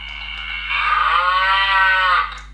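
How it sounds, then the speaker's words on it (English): A cow moos once as a story prop sound for Jack and the Beanstalk, a long, loud, drawn-out bellow over a steady low hum. "We had the cow"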